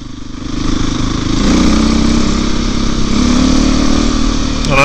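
A dirt bike engine runs loud and close on a byway, holding a steady buzzing drone with slight rises in pitch and no voices over it.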